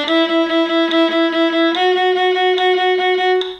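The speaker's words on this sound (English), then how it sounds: "And the next one is detaché," Viola detaché bowing in the middle of the bow, eight quick even semiquavers on each note, a pulsing repeated stroke that steps up to a new pitch partway through, played close and alone.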